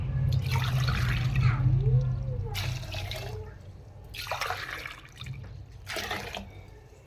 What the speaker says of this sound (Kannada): ಈ ಲೋಟದಲ್ಲಿ ಎರಡು ಲೋಟ ನೀರು ಹಾಕ್ಕೊತೀನಿ